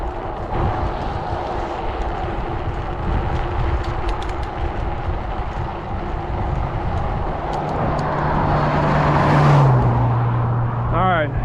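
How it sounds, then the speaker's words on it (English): A truck and a car pass close by cyclists crossing a bridge in Cooke County, Texas, their roar swelling over steady wind and road noise, with a low engine drone gliding downward near the end. "Got a truck coming from behind."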